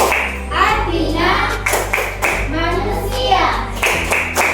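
A class of children claps the rhythmic Tepuk Anas chant during an Islamic religious lesson in Indonesia, with crisp, evenly spaced hand claps close by and voices chanting along.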